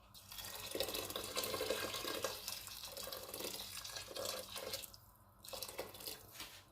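Water runs steadily from a tap into a cooking pot being filled for biryani rice, a continuous splashing flow that dips briefly near the end before resuming.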